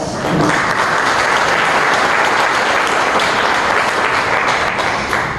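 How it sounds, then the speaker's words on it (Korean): Loud, dense applause from an audience after an architecture lecture, sustained evenly across the whole stretch. "다시 한번 박수 인사 보내드리고요"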